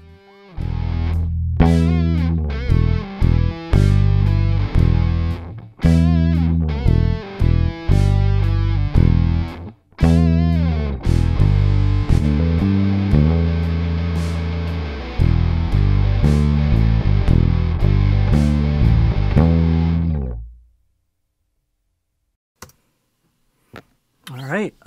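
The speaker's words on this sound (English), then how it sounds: "Let's put some bass on it." Heavy, distorted low tones are played in a rhythmic, stop-start pattern while bass is recorded onto a rock song, with a dense full mix that cuts off into near silence followed by a few faint clicks.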